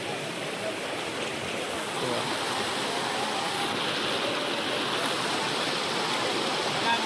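Floodwater after heavy rain in Mahuva rushes in a loud, continuous broadband roar that holds steady for the whole stretch, with no clear voices over it.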